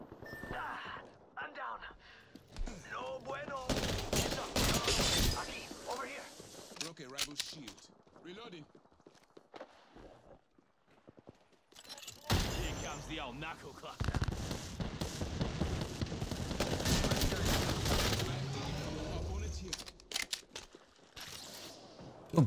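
Apex Legends gunfire sounds in bursts and rapid volleys during a firefight, heavy at the start and again after a brief lull, mixed with game effects while players talk throughout.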